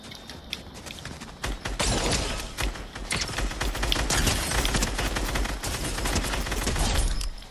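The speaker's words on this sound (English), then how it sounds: "I'm firing in your direction." Dense Fortnite firefight gunfire, rapid bursts of shots crackling almost without pause, loud and close, building up after the first second and running to the end.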